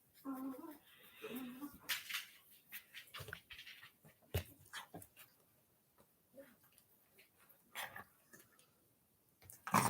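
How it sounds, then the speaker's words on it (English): A dog in the background of a room, giving intermittent short barks and whimpers, fairly faint and mixed in with someone talking. "Y'all may hear my dog in the background."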